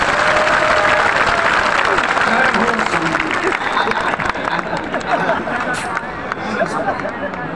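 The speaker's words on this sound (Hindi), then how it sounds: "एक बार ताली बजाओ समधी को।" An audience claps loudly and continuously at a religious gathering, the applause thinning slightly toward the end amid crowd chatter, with voices heard in the background.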